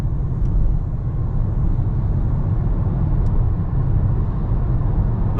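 A 2018 Nissan Leaf NISMO electric car accelerating at half throttle up a motorway on-ramp. Steady low road and tyre rumble with wind noise stays loud and constant from the cabin, with no engine note.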